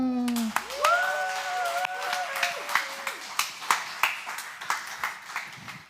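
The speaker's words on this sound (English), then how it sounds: "And can we clap it up for Hannah?" A brief vocal sound opens, then steady rhythmic audience hand clapping follows for a singer, a dozen or so even claps at a moderate pace.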